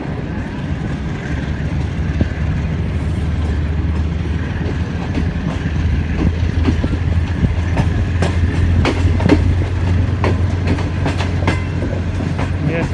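A Green Line 5up passenger train runs on the rails between Lahore and Chaklala, heard from inside a business class coach as a steady loud rumble with rhythmic clickety-clack and occasional sharper clanks.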